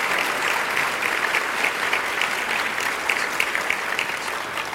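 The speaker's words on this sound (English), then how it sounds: "I think you guys should give them a big round of applause" A conference audience gives panelists at a city and university relations event a big round of applause, with sustained, loud, dense clapping from many hands that continues evenly without speech.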